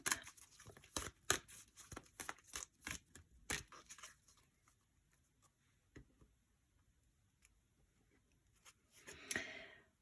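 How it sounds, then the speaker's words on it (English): Crisp rapid flicks and riffles of tarot cards, several quick bursts in a row, then a pause and one last rustling shuffle, close by. "I shuffled these cards in between readings."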